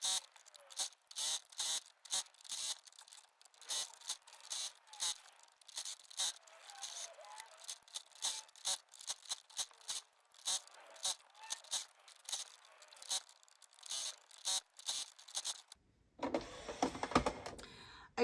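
A sewing machine stitches through a bulky filled dog bed in quick, regular bursts of close, bright mechanical clatter with short pauses between runs, ending in a rougher rustle as the fabric is shifted.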